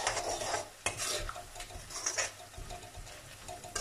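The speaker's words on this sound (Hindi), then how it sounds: "इसको भी अच्छे से मिक्स कर देना है, और अच्छे से इसकी तेल में सिकाई करनी है।" Garam masala frying in oil in a pan for chole sabzi, with a spoon stirring and scraping and a soft sizzle, quiet and near, in irregular bursts.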